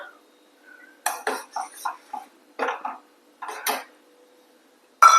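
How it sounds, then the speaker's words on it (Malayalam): Cooked lentils, about fifty grams pressure-cooked beforehand, go into a pot of okra sambar with a few separate wet clatters and scrapes against the pot amid near silence. "നമ്മൾ പരിപ്പ് ഒഴിച്ചു അപ്പം ഇനി രണ്ട് മിനിറ്റ് കൂടി ഒന്ന് തിളക്കട്ടെ"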